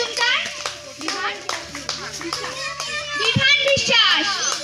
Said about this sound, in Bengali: সবাই ওদের ছেলেদের জোরে হাততালি